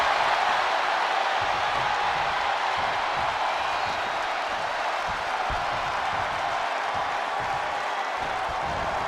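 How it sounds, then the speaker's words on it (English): A wrestling arena crowd roars in a dense, loud, sustained wash of cheering that fills the space without letting up. "Listen to this crowd."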